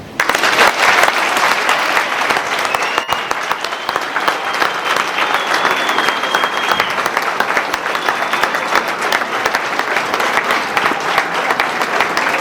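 Loud, dense crowd applause for EFF President Julius Malema, sustained and steady throughout, with a few faint whistles over the clapping.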